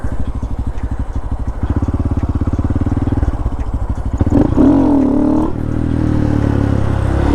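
A motorcycle engine chugs at low revs, then roars up sharply with a wavering pitch during a wheelie attempt before settling into a loud, steady drone close by.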